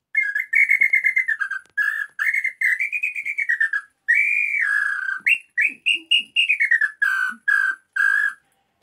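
A hand-held bird-call whistle imitates the red-footed tinamou (nambu pé roxo) with a long run of clear, close whistled notes that rise and fall in short repeated phrases, with no talking.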